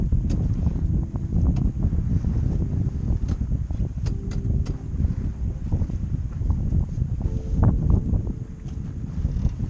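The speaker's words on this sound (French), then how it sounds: "Le vent un peu baissé." Continuous low wind rumble buffeting the microphone aboard a sailing boat on a cruise, with faint rhythmic knocking and creaking in the background.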